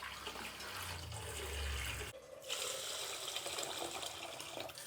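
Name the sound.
washing soaked rice in water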